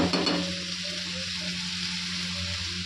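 Pumpkin, shrimp and potato fry in a pan with a steady close sizzle, opening with a short burst of stirring before settling into even, continuous frying with no voices.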